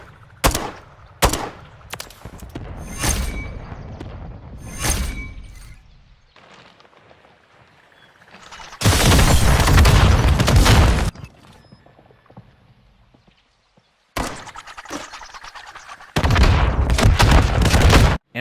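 Spawn-tube launcher shots and explosions in Modern Warfare III on the Estate map: several sharp bursts early on, then two long, loud roaring blasts with quieter gaps between them.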